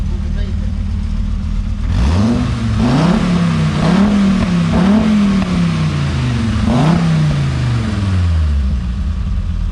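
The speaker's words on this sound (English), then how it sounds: "What, you want me to rev Just it? rev it once or twice." A Toyota MR2 fitted with a turbocharged VR6 engine is revved several times from a rumbling idle, each blip rising and falling, heard from behind the car while people talk nearby.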